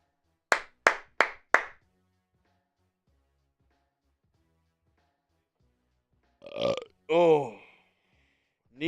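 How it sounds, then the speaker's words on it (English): A loud burp bursts out near the end, followed by a short vocal trail, during a live play-by-play stream of a Texans vs. Titans football game; four sharp claps sound earlier in the clip. "That burp felt fantastic."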